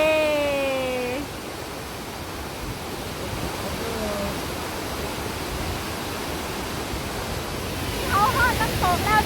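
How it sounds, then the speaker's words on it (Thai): Roadside waterfall near the Nantahala River, a constant broadband roar of falling water close by, with a person speaking briefly at the start and another short voice toward the end. "เป็นน้ำตกที่ว่างามที่สุด"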